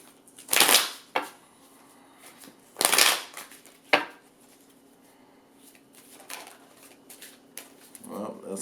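Deck of psychic reading cards being shuffled, two loud riffling bursts and a sharp snap, followed by quieter handling of the cards as a voice speaks softly.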